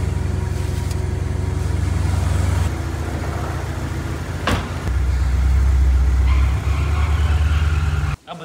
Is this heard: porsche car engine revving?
yes